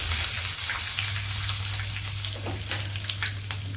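Dry red chilli, asafoetida and curry leaves hit hot oil as a tempering for cucumber chutney, giving a close, steady bright sizzle that crackles throughout with no talking.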